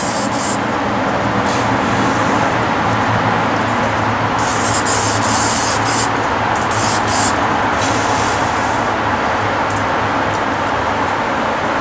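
Aerosol spray paint hisses steadily from a can being test-sprayed for model railcar wheels, a continuous close rushing spray lasting the whole stretch with a few brighter bursts.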